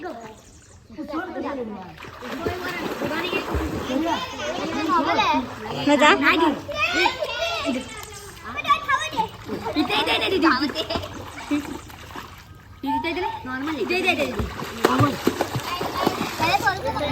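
Children play and shout in a swimming pool amid intermittent water splashing, voices lively and close throughout, with adults and kids talking over the splashes.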